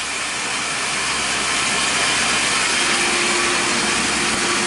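A ball nut mounting plate for a linear lathe being machined at 4,000 RPM gives a loud, continuous high whine and grinding rush that holds steady throughout, with no voices.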